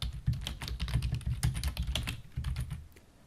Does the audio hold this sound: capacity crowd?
no